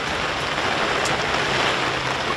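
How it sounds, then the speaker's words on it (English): Heavy rain pouring down during a rugby league game, a dense, steady broadband hiss with no letup, loud and close throughout. "This has turned into a not very nice day now, the rain coming down"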